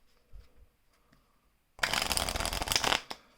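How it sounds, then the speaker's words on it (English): Playing cards riffled in a bridge shuffle, a dense burst of crisp flutter lasting just over a second after faint handling sounds, close and alone. "you can do a regular bridge or riffle shuffle."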